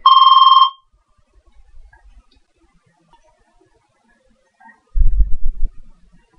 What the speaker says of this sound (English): sorry about the little blip coming up with the phone ringing